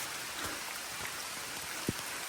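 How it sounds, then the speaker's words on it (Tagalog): Steady rain pours down during a mountain trail run, a dense even hiss with a few soft thuds and drips, faint and continuous with no talking. "Umuulan na naman guys."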